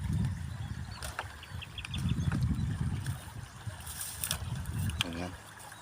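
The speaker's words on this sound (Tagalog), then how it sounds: "Ganda ng agos ng tubig guys." The Santa Praxedes river flows with a continuous rushing, bubbling wash, steady and moderately close, while someone talks over it in short bursts.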